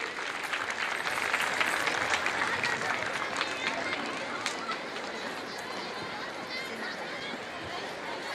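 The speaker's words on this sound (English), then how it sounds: "Can we put a huge round of applause for our students of Standard 3?" Applause from the crowd for Standard 3 students at a school's annual sports meet, a broad, continuous wash of clapping mixed with crowd chatter and outdoor noise, loudest early and easing slightly toward the end.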